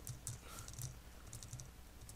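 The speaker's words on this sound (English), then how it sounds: "Sorry, I'm typing slow." Quick, light clicks of fingers typing on a computer keyboard, a short irregular run of keystrokes heard close and fairly quiet, with no talking.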